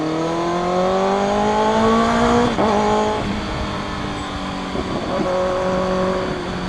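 A Kawasaki ZX6R motorcycle accelerates hard in first gear, its engine note climbing steadily in pitch as a loud, close, continuous whine, with a brief dip around a shift and then a sustained high rev.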